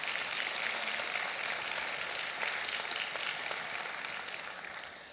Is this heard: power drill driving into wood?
no